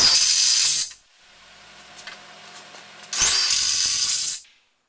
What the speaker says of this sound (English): Next, I need to drive the last 2 fasteners into the bash plate.